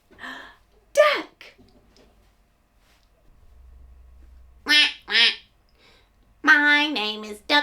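Quacking from a cartoon duck in a toddlers' farm-animal song, a few short bursts separated by pauses, loud and close, with a low hum beneath; the quacks may be a voice imitating a duck.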